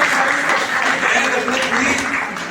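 At a comedy poetry gathering in Gorakhpur, an audience breaks into applause, a continuous, moderately loud spread of clapping over a short stretch.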